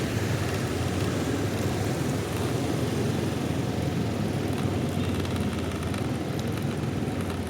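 A motorbike rides through a housing estate, its engine a steady droning hum with wind noise, constant and close for several seconds without speech.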